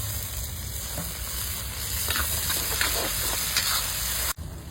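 Tomatoes go into a frying masala of browned onions for paneer masala, and a steady sizzle with faint stirring scrapes runs throughout before it cuts off abruptly at the end.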